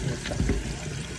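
Tap water runs and splashes as small crabs are rinsed clean. The brief, close wash of water has no voices over it.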